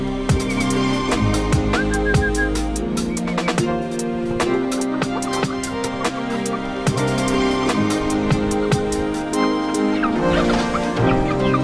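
Chickens and bantams cluck and chatter repeatedly nearby, with short sharp calls scattered over a steady background hum.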